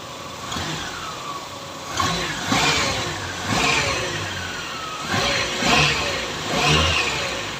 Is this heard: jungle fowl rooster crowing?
no